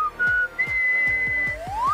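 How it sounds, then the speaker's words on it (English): A person whistles by blowing air through lips shaped into a small O, producing a clear, close solo whistle with sustained pitched notes and a final upward glide, no talking. "by gently blowing air out through the hole, you can make a whistling sound."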